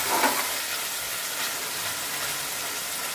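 Thin-cut boneless chicken with soy sauce and tomato sauce fries in a pan, giving a constant loud hissing sizzle with a faint stir at the start and no voices.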